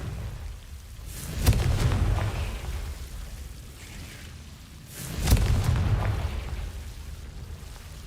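Confringo fire spell explosions in Hogwarts Legacy, two deep booming blasts several seconds apart, each with a sharp crack and a rumbling tail that fades slowly.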